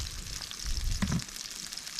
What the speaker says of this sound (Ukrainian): І вона тут буде десь хвилин 10 смажитись, в залежності від вогнища